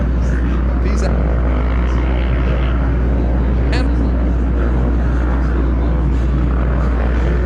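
Senior 45+ motocross bikes racing at Loretta Lynn's in 2021, an old two-stroke against a new four-stroke: loud continuous engine drone throughout, with a commentator talking over it.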